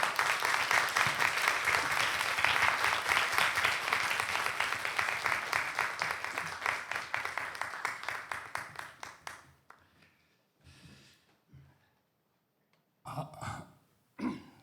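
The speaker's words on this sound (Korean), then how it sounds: "우리 목사님 나오실 때 우리 큰 박수로 환영해 주시길 바랍니다." Loud crowd applause welcoming a pastor onto the stage at a youth-led church worship service, dense clapping for about nine seconds that thins and fades, followed by quiet with brief rustles and a few short sounds.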